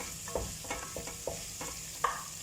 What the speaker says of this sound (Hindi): और ज़ीरे को भी हम थोड़ा सा फ्राई कर लेंगे